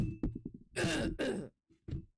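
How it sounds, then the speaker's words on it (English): Someone clears their throat close up with a couple of rough, gravelly bursts, followed by a short grunt. "I had to clear my throat there."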